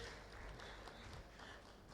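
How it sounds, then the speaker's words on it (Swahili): An audience claps for the organisers at the launch of a poultry and domesticated bird exhibition, a steady, dense wash of applause filling the room throughout without letting up. "Naomba tuwapige makofi tena waandaaji tafadhali"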